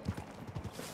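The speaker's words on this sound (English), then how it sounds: "let's go on a long horse ride through Valentine" Horse hooves clip-clop in Red Dead Redemption 2 on a ride through the town of Valentine, a quick, uneven run of soft thuds at moderate volume with no talk.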